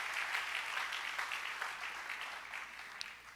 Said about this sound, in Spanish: Denle un buen aplauso de alabanza a Jesús